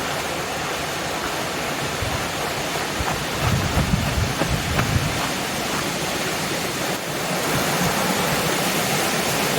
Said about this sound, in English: right by the Lackawanna River now